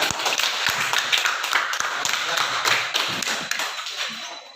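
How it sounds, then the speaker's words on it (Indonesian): Students in a junior high classroom clap for a group that has just presented, a steady patter of many hands, moderately loud and fading slightly toward the end. "Beri dulu tepuk tangan kepada kelompok 3."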